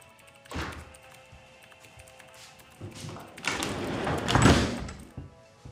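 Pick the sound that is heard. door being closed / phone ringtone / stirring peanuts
door being closed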